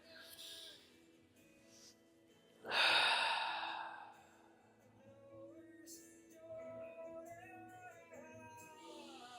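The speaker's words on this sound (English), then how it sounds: "Maybe bringing in the diaphragmatic breath once again. Big expansive breath." A single deep diaphragmatic breath during a seated chair yoga session: a loud, close exhale against a soft music background.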